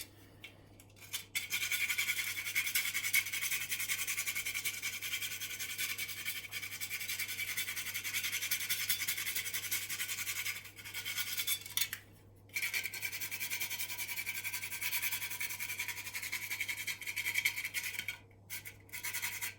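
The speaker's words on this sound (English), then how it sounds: "Good grating of black pepper. Another grating of nutmeg." Black pepper and nutmeg grated over a vegan moussaka, a continuous close scratchy rasping that stops briefly a few times and then resumes.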